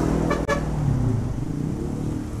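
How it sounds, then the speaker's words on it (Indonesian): Jammed road traffic around a Shopee Food delivery motorcycle in Indonesia, a steady rumble of idling and creeping engines with a short horn toot near the start, close and continuous. "Macet nih kalau di sini dia."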